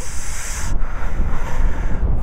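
Strong mountain wind on Mount Banoy, Batangas, buffets and roars across the microphone in heavy gusts, with a steady low rumble and a hissing rush that briefly drops away.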